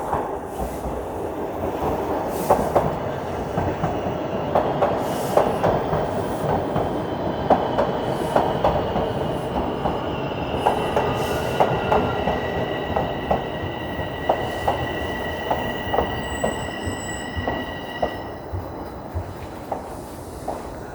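A Toronto subway train rumbles and clatters along the rails into the platform, wheels squealing faintly at times, with rhythmic clicks growing steady as it pulls in.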